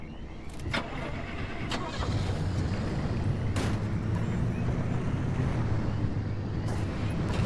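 Vehicle driving through swamps in the video game Pacific Drive, a steady, dense engine rumble and road noise running the whole time, with a couple of brief sharp knocks early on.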